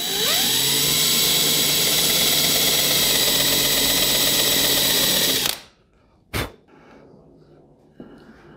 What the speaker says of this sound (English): instead of drilling your hole, we're going to start with the countersink